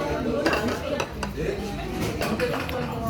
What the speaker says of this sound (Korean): 야채를 싹 다 집어넣고요.